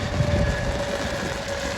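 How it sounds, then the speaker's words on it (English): An electric train rumbles past nearby, sparking, with a broad steady roar and a faint electrical hum running through it. "There's the train."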